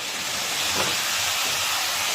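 Banana flower frying down in a shallow mix of oil and water in a Bengali home kitchen gives a steady, close hiss that holds evenly throughout, with no talking.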